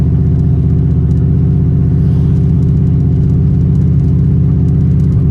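Turbocharged Ford Mustang engine running on cruise control, a loud, steady low droning hum with a faint rhythmic pulse, heard from inside the car without talk.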